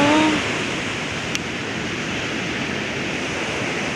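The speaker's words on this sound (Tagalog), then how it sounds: "Etong mga waves na to, gustong gusto ng mga surfer." Waves break on the beach at La Union, giving a broad, steady roar of surf, loud and continuous with no voices over it.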